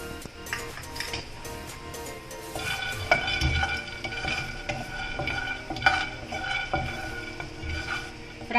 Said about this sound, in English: Let's fry the peanuts.